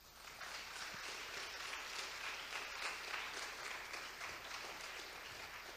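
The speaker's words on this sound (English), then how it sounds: "big round of applause for Chris." Audience applause at a Christian apologetics conference session: continuous, even clapping from a sizable crowd, heard somewhat quietly and at a distance, holding steady without any speech.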